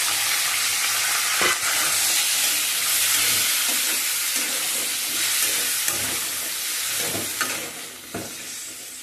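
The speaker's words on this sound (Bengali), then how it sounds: "এবারে আমি আলুটাকে ভেজে নেব। আমার যে কাটা আলুগুলো রয়েছে কড়াইতে তেল দিয়ে দিয়েছি।" Cut potatoes fry in oil in a kadai over a medium-high flame for a traditional Bengali dish, giving a steady, loud sizzle with occasional stirring clinks and bursts.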